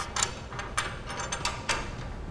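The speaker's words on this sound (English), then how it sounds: "set it in place and screw down the lock nut" Lock nut being screwed down by hand onto a bolt securing a corner brace on a Thule TracRac SR sliding truck bed ladder rack, a series of faint, close metallic clicks and ratcheting ticks at an uneven pace.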